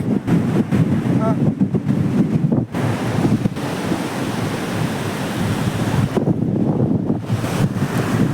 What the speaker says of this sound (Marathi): केलवा बीच